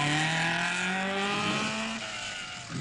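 An Alfa rally car from the 1958 Coupe des Alpes revs hard nearby, its engine note climbing in a crisp rising whine with a faint tire squeal, loud and unbroken by speech.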